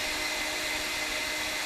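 Vacuum cleaner running steadily right beside kittens, a continuous broadband whooshing drone that holds at an even, fairly loud level with no pauses.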